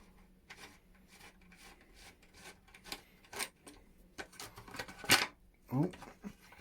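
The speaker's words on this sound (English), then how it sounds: "Get the right sized Allen key. We should be able to get that off" An Allen key works a small hex bolt loose on a panel of a Triumph Tiger 800 motorcycle: quiet scraping and rubbing with a few sharp metallic clicks, close by, between soft bits of voice.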